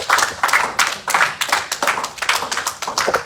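A church congregation claps steadily in a fast, even rhythm, loud and close, with a brief roomy echo and no clear voices over the claps.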